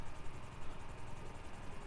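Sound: helicopter in video game GTA V

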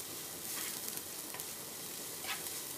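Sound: cumin and green chilli frying in oil

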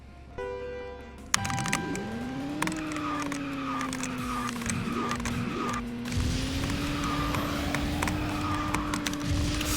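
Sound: kart drifting, from video game KartRider

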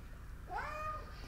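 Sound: cat meowing

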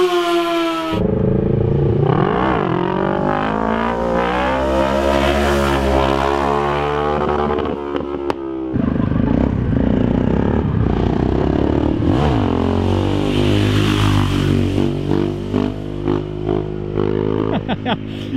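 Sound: motorcycles (XJ6, MT, KTM 640) passing while doing wheelies

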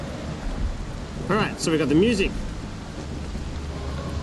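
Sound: thunder and rain storm sound effect from Syrinscape

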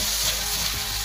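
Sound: sautéing chopped carrot and capsicum in a pan

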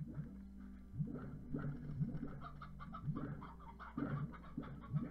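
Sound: elder hen clucking in Slime Rancher video game

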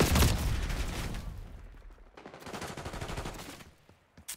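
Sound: gunfire in video game Black Ops 6

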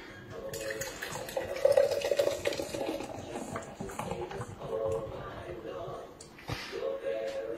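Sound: beer being poured into a glass

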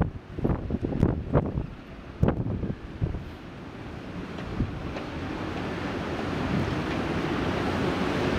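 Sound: ocean waves and surf at English Bay

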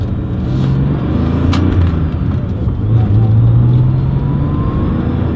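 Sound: 1995 Porsche 911 993 C4 driving

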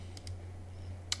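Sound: typing a search on a computer keyboard

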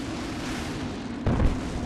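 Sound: gunfire from the video game Aliens vs Predator

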